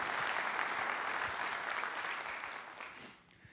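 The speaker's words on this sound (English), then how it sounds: "let's give them a big round of applause for all their amazing work and for their support" An audience at a civic presentation bursts into sustained applause, many hands clapping in a dense roar that thins and drops off just before the end.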